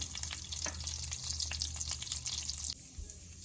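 Cumin and flax seeds fry in hot oil, giving a dense, continuous close sizzle that drops suddenly in level near the end, with no speech.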